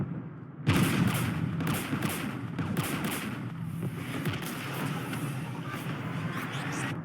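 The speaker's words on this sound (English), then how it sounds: "We're taking fire." Dense gunfire in the Mass Effect 3 video game: a steady, loud barrage of overlapping shots and blasts running almost continuously after a sudden start, with rumbling low-end booms beneath.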